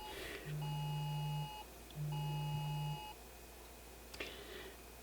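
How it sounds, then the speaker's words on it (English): Emergency public alert tone on a mobile phone: two loud, steady beeping tones of about a second each, separated by a short gap, followed by a faint click. "Oh no, a public alert coming through my phone."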